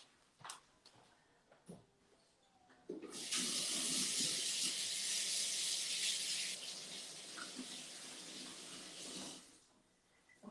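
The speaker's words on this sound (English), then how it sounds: "I'm gonna go wash my hands" A kitchen tap gushes steadily into a sink for about seven seconds while hands are washed, a bright, hissing stream that starts abruptly and stops, with small clatters before it begins.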